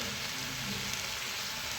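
Food frying with two tablespoons of dry coconut in a pan for chapparada avarekai palya, a steady close hiss and crackle of sizzling oil filling the whole stretch with no talk.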